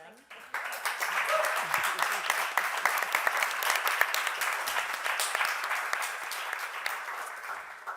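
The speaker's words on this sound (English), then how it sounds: "An applause for them." Applause breaks out after a short quiet start, with distinct individual claps from a modest audience at a panel discussion, held steady and fairly close for several seconds.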